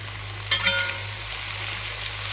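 A chicken dish being stirred as it fries in a pan, a soft steady sizzle with a short scrape of the spoon near the start, then a low continuous crackle with a faint steady hum beneath.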